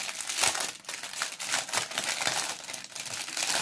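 Plastic packaging of rhinestones being opened by hand, a continuous close crinkling and crumpling with brief tearing bursts, fairly loud and steady throughout, no voices.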